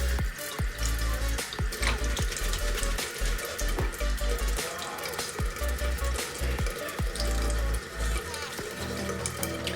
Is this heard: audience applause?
no